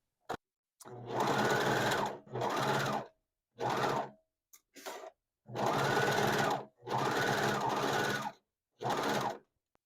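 Serger sewing machine stitching checkered fabric for a T-shirt dress, running in several sustained bursts of a few seconds each with short pauses between, steady and fairly close, no talking.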